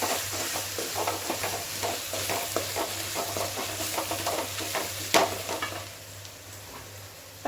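Potatoes and homemade masala powder frying in oil, stirred steadily with a spoon scraping the pan in a busy rhythmic stream over a constant sizzle, one sharper knock near the end before it quiets.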